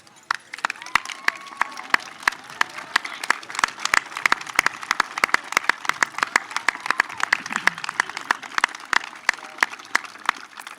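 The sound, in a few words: graduation audience applause for families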